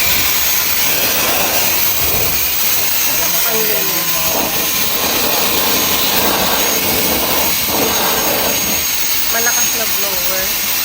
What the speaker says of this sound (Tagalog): Malakas na blower.